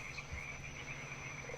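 Frogs croak in a continuous, faint chorus, a steady trilling drone with a few low croaks standing out nearby.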